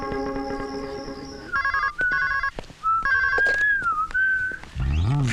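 A telephone rings during a call, with an electronic warbling ringtone pulsing in bursts of repeated tones, moderately loud and close, followed by a sliding melodic tone.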